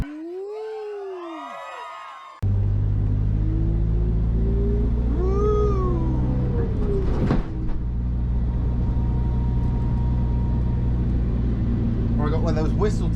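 A Volvo with a newly fitted turbo emits high, wavering whistles that swoop up and down over a loud, steady engine drone, with voices talking over it.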